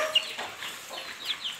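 Young native chicken, a three-month-old chick, clucking and chirping in short soft calls repeated over a couple of seconds, moderately close, with no talk.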